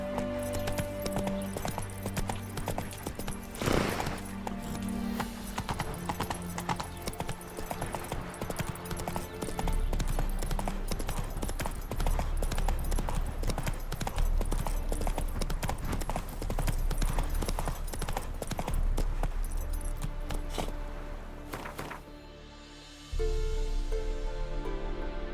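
A horse's hooves galloping in The Witcher 3, a continuous rhythmic clip-clop at close range that runs for most of the stretch, then breaks off near the end.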